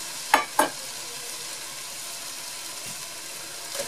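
Root vegetables and coarsely diced onions go into a hot Dutch oven, with two sharp clattering hits at the start, then a steady soft sizzle of browning food that runs on alone.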